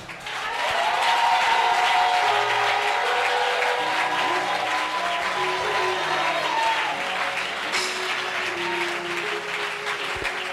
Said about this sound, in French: Si tu veux acclamer, acclame bien.